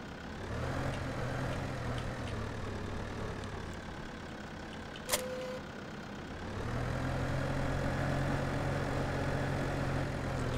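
A tractor engine in the farming game Farming Simulator 2015 idles in a steady, low drone for the whole stretch, dipping slightly in the middle before the rumble swells again, with no talking.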